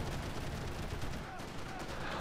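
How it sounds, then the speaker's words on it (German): Gunfire in the Max Payne 3 multiplayer shooter, a dense continuous burst of shots and battle noise filling the whole stretch at steady loudness, with no clear gaps between rounds. "das ist also mein Schuss"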